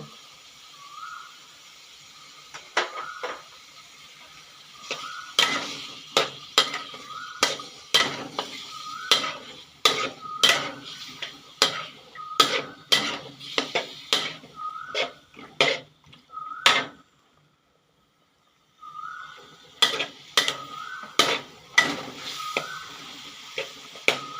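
A spatula scrapes and clatters rhythmically against a pan while chicken and long beans stir-fry, with a steady sizzle underneath, a brief pause, and then more quick metallic strokes.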